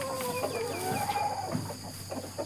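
Light Sussex chickens in a backyard pen cluck and murmur close by, with short rising calls and soft chatter over a steady background hum.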